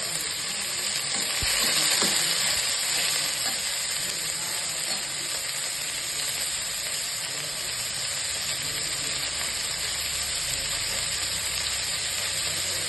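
Biryani ingredients sauté in a pan with a dense, continuous sizzle and hiss and occasional stirring scrapes, close and steady throughout with no talking.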